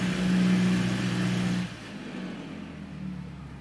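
A simulated A2A Cessna 172 aircraft engine idles with a steady, droning hum; the level drops partway through and then holds at a quieter, even idle.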